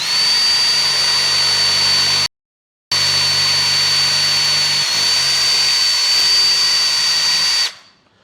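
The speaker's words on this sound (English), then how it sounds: "So once it's drilled out to the appropriate size," Power drill boring out a part during a model airplane build, a loud steady whine with a high tonal line, one brief gap in the middle, then running on before cutting off near the end.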